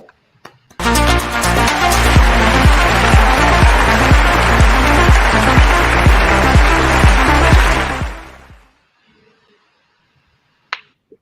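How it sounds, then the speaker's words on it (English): An audience at a live awards ceremony claps for a winning team. Loud, dense applause swells at once and holds for about seven seconds, then fades quickly to near silence, with one faint knock near the end. "A big round of applause for all these team members and the winner."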